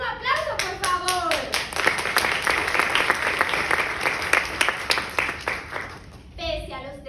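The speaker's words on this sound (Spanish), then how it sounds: "Un aplauso, por favor." Audience at a dramatized reading in the Dominican Republic breaks into steady clapping and applause after an announcer's short spoken line, holding fairly loud before fading near the end as the voice returns.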